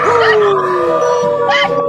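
A beagle howls along with people, its long sliding wail loud and close, mixed with human voices howling in chorus.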